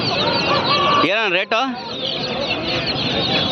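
Aseel and country chickens cluck at a busy poultry market in Kundarapalli, Krishnagiri, with a loud close squawking call rising over the crowd noise while someone speaks.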